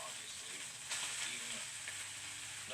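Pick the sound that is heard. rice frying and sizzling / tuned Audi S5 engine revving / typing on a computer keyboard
rice frying and sizzling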